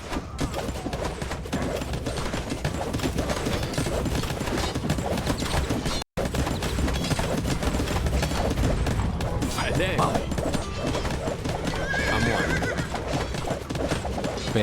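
Horses in the Araucanian setting of a video game neigh and whinny while hooves clip-clop at a gallop, set against a busy, continuous game soundscape with a brief dropout partway through.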